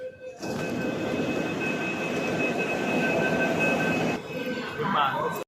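A crowded Mumbai metro train on the Blue Line between D.N. Nagar and Ghatkopar runs with a steady, loud rumbling roar and a faint whine, cutting off near the end as a brief noise rises.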